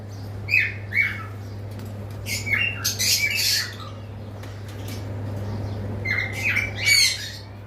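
Cockatiels and lovebirds at a bird shop let out sharp squawks and chirps in scattered bursts over a steady low electrical hum.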